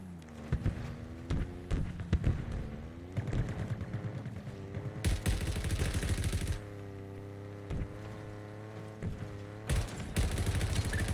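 Rapid turret fire in Halo Infinite rattles in repeated bursts, loud and close, with short pauses between volleys and other game effects layered underneath.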